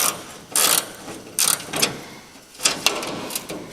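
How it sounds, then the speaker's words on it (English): A ratchet wrench works the last bolt on a Farmall tractor engine, giving several short bursts of quick metallic clicking up close, separated by brief pauses. "I'm going to take this last bolt off and then this side panel will come down."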